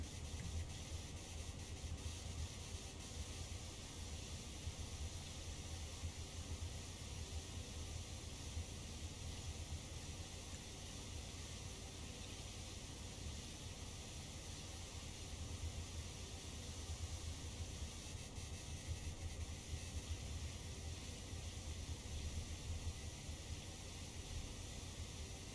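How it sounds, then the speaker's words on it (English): Pressure washer spraying water in PowerWash Simulator, a continuous soft hiss of spray that stays steady and fairly faint for the whole stretch with no talking. "Just spraying a little bit with water."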